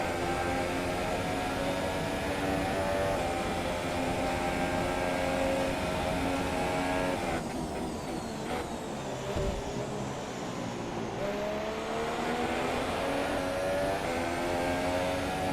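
F1 2017 race cars at the Malaysia circuit, including a Sauber, drone on steadily with layered high-revving engine whines that rise and fall as the cars shift and pass, a continuous moderately loud racing roar.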